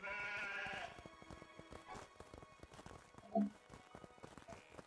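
A sheep bleats in the video game Craftopia, one short cry near the start followed by a brief call midway, set among clip-clopping footsteps and game noises at low level.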